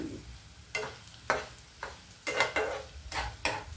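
Raw plantain and potato pieces fry in hot oil for a Telugu fry, a quiet sizzling bed broken by several sharp clinks and scraping stirs of a utensil against the pan, close and irregular, without talking.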